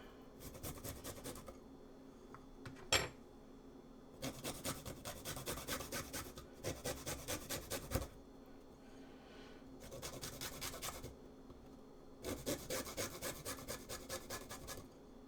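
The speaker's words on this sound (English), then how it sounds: "we're just going to take the cloves and grate back and forth until we get down to the end" Garlic cloves are grated back and forth over a bowl, a close raspy scraping that comes in rhythmic bursts of quick strokes separated by short pauses, with a single sharp tap partway through.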